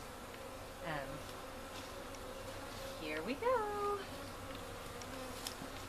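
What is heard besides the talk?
honeybees buzzing while shaken into hive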